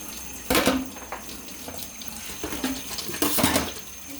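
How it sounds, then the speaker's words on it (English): A kitchen tap runs in bursts while hands are washed, with water splashing into the sink that rises and falls as the flow is interrupted, close and fairly loud, with no speech. "I need to wash my hands."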